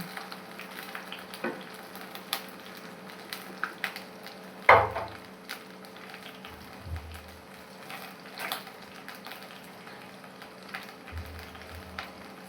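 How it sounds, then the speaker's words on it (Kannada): Ginger, green chili, tomato, coriander and mint fry in a pan with a faint, low sizzle, punctuated by a few soft stirring knocks and clatters, quiet and close. "ಇದನ್ನೆಲ್ಲ ಹಾಕ್ಬಿಟ್ಟು ಚೆನ್ನಾಗಿ ಫ್ರೈ ಮಾಡ್ಕೊಬೇಕು"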